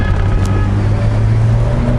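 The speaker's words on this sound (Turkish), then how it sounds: "gaza oturduğun anda ayırıyor araba" A Renault 19 Cabrio with a 1.8 engine accelerates, its steady, loud, low engine drone heard up close and continuously, with no talk over it.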